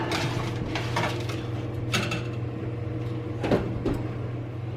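An Italian sausage dish slides into a home oven and the oven door shuts, giving a few soft clunks over a steady kitchen hum, with no talking.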